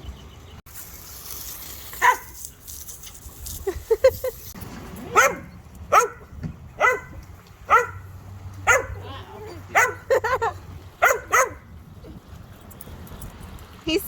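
Small puppy barking in repeated short yips spread across the recording, close and fairly loud, with a voice talking in the background early on.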